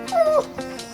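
A dog gives a short whimpering, rising-and-falling yip, a single close whine of about a second, heard alone without talk.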